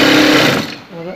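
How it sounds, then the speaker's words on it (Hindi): A sewing machine stitching a fabric neckline runs in a loud, fast mechanical whir for about half a second and then winds down, with a quieter tone at the end. "ये पहले एक साइड पे सिलाई लगाएंगे और फिर दूसरी साइड इसी तरीके से सीधा रखें"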